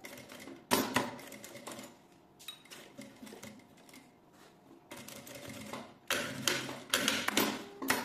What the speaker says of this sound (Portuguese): eu já vou fazer uma costura com um pé de máquina